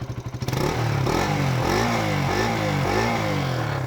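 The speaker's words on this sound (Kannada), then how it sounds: "ಒಂದ್ಸಾರಿ ಎಕ್ಸಾಸ್ಟ್ ಸೌಂಡ್ ಕೇಳಿಸ್ಕೊಳ್ರಿ" A Bajaj Pulsar NS 200 naked sports motorcycle engine revs up close, rising and falling in several throaty bursts of exhaust, loud and rumbling, with no voices.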